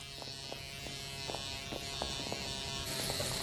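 An electric razor buzzes steadily in a quiet household scene, a continuous close hum with faint clicks, while someone is being shaved.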